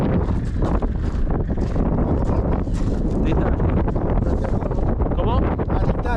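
Very strong wind buffets the microphone in a continuous, loud, rough rumble with gusty surges throughout, drowning out any other sound.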